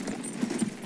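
Horse hooves clip-clop from a cavalry horseman in the video game Battlefield 1, a quick run of soft, muffled steps under a low background rumble.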